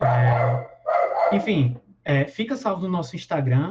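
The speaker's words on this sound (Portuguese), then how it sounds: "peço desculpa pelo cachorro latindo" A dog barks and yips nearby, mixed in with a person speaking Portuguese during an online presentation.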